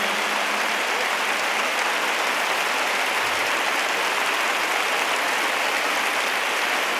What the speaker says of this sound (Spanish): pido un fortísimo aplauso